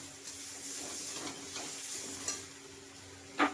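Spice paste for goat meat curry stirred and frying in a pan, a steady close sizzle with soft scraping strokes and a sharper clatter near the end.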